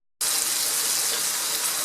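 Steady bright sizzling hiss of meat frying in a hot pan, loud and continuous, starting abruptly after a brief quiet moment.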